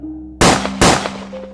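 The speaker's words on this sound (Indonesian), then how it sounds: "Bon menembakkan pelurunya di kepala Likra saat ia masih kesakitan." Two sharp, loud gunshots about 0.4 seconds apart, each leaving a decaying tail, fired at a creature's head, with no voices.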